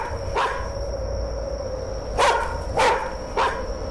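A dog in a horror video game barks four times: one sharp bark early, then three more in quick succession after a pause, loud and close against a quiet, humming background.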